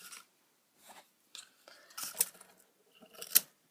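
Scissors snip through sisal string while making a toilet paper roll rabbit toy, a few short, separate crisp cuts and rustles with quiet gaps between them, close up.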